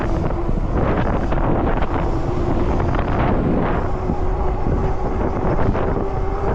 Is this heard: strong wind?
yes